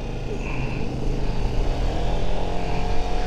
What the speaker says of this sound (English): That was a biker cop.